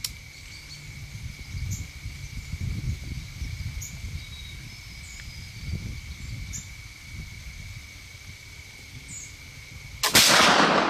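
Flintlock rifle fired at a deer during an early-season Pennsylvania doe hunt: one sharp, loud shot near the end, after a long stretch of quiet outdoor woodland ambience with faint insect buzzing and low rustling.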